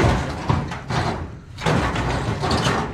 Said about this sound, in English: I think we'll close the doors like that.